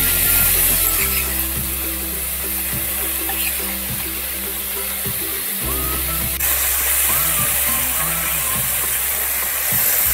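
Marinated prawns hit hot oil in a pan for a Mangalorean ghee roast, producing a steady, loud sizzling hiss over a low background hum.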